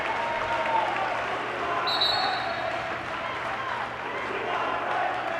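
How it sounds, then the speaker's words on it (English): Crowd noise at a high school basketball tournament game between Saint Peter's Prep and Oratory Prep, a steady energized roar of spectators filling the gym, with a commentator talking over it and a brief high squeak near the middle. "the crowd is involved in the game. They're energized"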